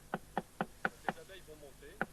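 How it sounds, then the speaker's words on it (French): Sharp wooden taps on a beehive while smoking the bees during queen rearing, six knocks in a loose rhythm with a short pause before the last, close and crisp, while a person talks quietly between them. "je vais tapoter tout en enfumant"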